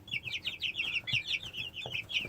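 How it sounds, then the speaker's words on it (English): Young chickens being moved from their brooders cluck and chirp almost continuously, with quick overlapping calls close by and soft handling noises beneath. "I'm going to go and load these chickens up one at a time and bring them over to the tractor."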